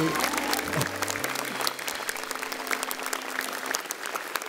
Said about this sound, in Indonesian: Tepuk tangan lagi dong buat MNC.